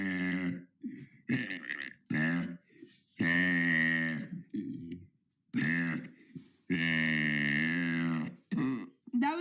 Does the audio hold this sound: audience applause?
no